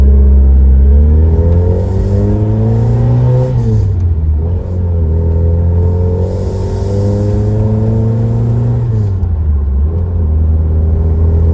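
A 1982 Ford Escort XR3 driving on an open road, its engine revving up through the gears with rising and falling pitch sweeps, loud and close throughout with a steady rumbling drone and no talking.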